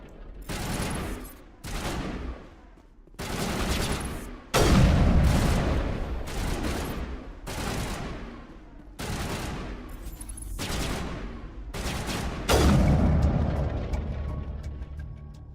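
Bursts of gunfire from the Mass Effect video game, a series of loud, rapid volleys separated by brief gaps across the whole span, with heavy booming impacts and no talk.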